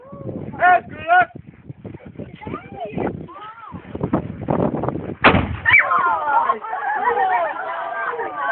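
A small cannon fires outdoors with one loud, sharp boom followed by a rumbling tail, amid excited voices and people calling out before and after the shot.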